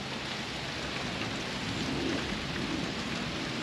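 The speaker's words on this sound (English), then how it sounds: "10 hours video of thunderstorm right now." Steady rain pours down during a thunderstorm, a dense, even hiss of falling water at moderate volume with no distinct thunderclaps and no voices.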